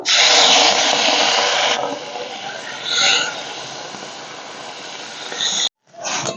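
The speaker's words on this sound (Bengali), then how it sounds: "মাছটা এখন ভেজে নেব কড়াইতে তেল দিয়ে আমি গরম করতে বসিয়ে দিয়েছি" Small fish frying in hot oil in a wok: a loud, steady sizzling hiss that eases after a couple of seconds, briefly flares, then cuts out and resumes.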